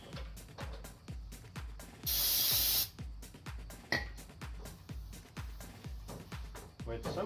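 A single sharp spray burst of cleaner onto the surface of a 1968 Pontiac 400 engine, lasting under a second, set among close rhythmic clicking and tapping.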